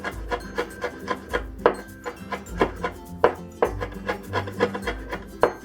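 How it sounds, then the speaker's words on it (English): A knife mincing chili pepper on a cutting board, with rhythmic close chops in quick bursts, steady repeated taps throughout and no talking. "We'll mince this."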